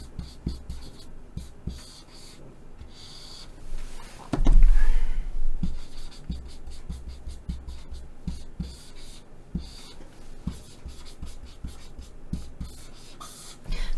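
Marker strokes on a board or paper in a classroom-style Korean history lecture, red marker writing people's names; repeated soft scratchy squeaks and scribbles at moderate level, with some speech and a brief louder bump partway through.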